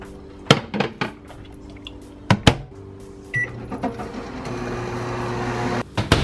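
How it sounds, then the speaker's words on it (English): A microwave oven runs with a steady hum while melting cheese on tacos, preceded by several sharp clicks and knocks of the door and buttons, then a continuous drone with a final click and beep, close by. "pop this in the microwave for 30 minutes or until your cheese is starting to get a little melty"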